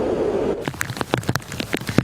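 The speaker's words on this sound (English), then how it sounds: "Freezing rain blasting all of western New York." Freezing rain falls in western New York on a winter evening: a brief rush of noise gives way to scattered sharp ticks and crackles of icy drops striking nearby surfaces.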